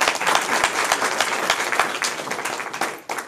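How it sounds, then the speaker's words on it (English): A wedding congregation claps in praise during a church-style service, giving dense, sustained applause with a few louder individual claps standing out from the crowd. "Let's give God a hand clap of praise"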